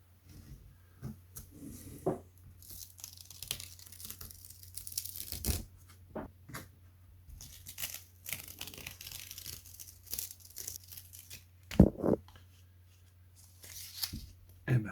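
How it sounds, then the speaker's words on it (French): Masking tape is peeled off watercolour painting paper in short crackling, tearing pulls, several separate strips with quiet pauses between, close up. "Les retraits des scotch."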